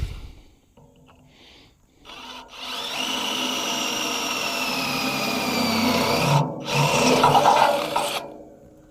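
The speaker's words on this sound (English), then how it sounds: "I'm just going to pick a spot and drill a hole." A power drill whines steadily through a metal tube for several seconds, pausing briefly, then biting again with a grinding, rasping tone before winding down.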